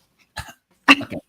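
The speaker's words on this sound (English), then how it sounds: "you have to start coughing the day before" Two short coughs, close and isolated in silence, the second louder and followed by a brief throaty tail.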